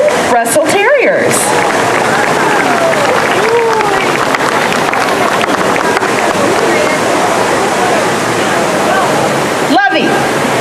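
At an outdoor dog show at the Three Rivers Festival, an audience claps for Parson Russell Terriers in sustained dense applause that fills the scene, with brief loud bumps near the start and end.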